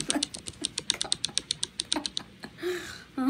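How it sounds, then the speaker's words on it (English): Fast, hard clacking keystrokes typed with acrylic nails in quick uneven bursts, sharp and close, then a brief pause and a muffled sound at the end. "The sound of an angry girl typing with her acrylics on."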